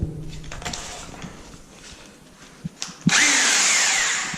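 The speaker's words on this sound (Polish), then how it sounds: "Toś powiercił teraz." A hammer drill runs as someone drills into a wall while fitting a larger electrical box, starting with light taps and scraping before a loud, sustained drilling whine takes over near the end.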